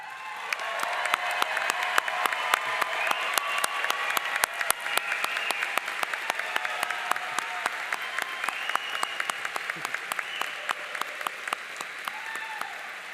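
Graduation ceremony crowd applauding first-generation students as they stand to be recognized, a long, even spread of clapping with distinct individual claps audible across a large hall.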